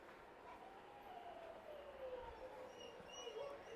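A large dog howls in drawn-out, rising and falling tones, faint and somewhat distant over a steady background hiss.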